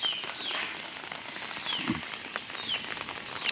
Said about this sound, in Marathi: छत्रीचा आवाज तुम्हाला येत असेल छत्रीवरती थेंब थेंब पडतात ते बघा